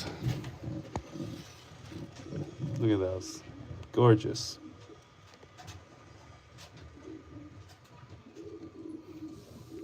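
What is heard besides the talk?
pigeons in a breeder loft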